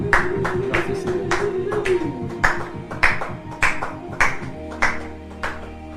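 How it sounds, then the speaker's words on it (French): Clapping in a church service while the congregation applauds for the Lord Jesus, heard as a steady run of regular claps over sustained music tones, with no voices. "Acclamons, acclamons-nous tous très fort."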